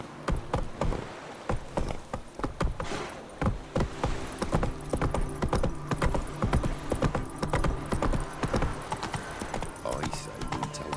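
Roach the horse gallops in The Witcher 3 video game, with a fast, continuous clatter of hooves close by and a brief whinny, sustained over several seconds.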